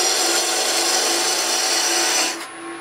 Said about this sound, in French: Et on va le faire avec un troncoir mince.